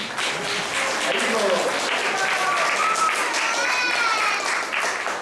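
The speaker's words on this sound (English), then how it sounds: "So let's give a round of applause for him" An audience at a Sunday temple class applauds steadily for a feast sponsor, a dense wash of clapping that holds evenly throughout, with faint voices and a singing tone drifting above it.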